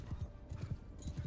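Horse hooves clip-clop in quick, regular rhythm during a battle in Mount & Blade 2 Bannerlord, a close and steady galloping beat.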